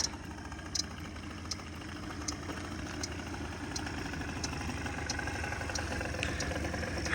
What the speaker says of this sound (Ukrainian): Наскільки тихо зз працює, коли вона в такому стані.